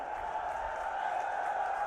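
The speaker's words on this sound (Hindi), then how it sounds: "एक बार जोरदार तालियां" A large political rally crowd in Churu applauds and cheers to welcome Prime Minister Narendra Modi, a continuous distant roar of clapping and voices held at a steady level.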